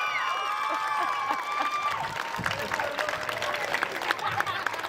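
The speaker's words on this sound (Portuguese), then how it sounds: "Me quer gran aplauso para Juffrouw Rachel" An audience breaks into applause for Juffrouw Rachel during a local news program, scattered clapping and crowd noise rising after a sustained tone fades, with voices mixed in.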